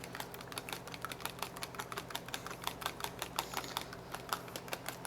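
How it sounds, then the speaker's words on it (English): A fork whisks a cracked egg in a bowl, making a rapid, steady run of light clicking taps that stays close and even throughout, with no talk. "we're going to crack an egg. Whisk that up just with a simple fork"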